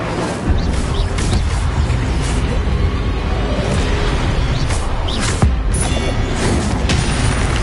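A fire spell cast in a Harry Potter video game fills the stretch with dense, roaring rumble and crackling bursts. Repeated whooshing flares and heavy booms recur at steady loudness, with a sharper burst near the end.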